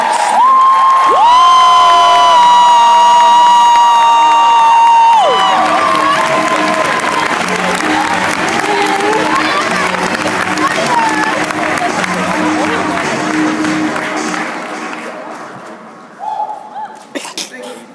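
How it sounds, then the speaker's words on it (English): A large crowd cheers and applauds loudly, with whoops and a sustained whistle early on, the roar fading away toward the end. "Y'all make some noise for Mark."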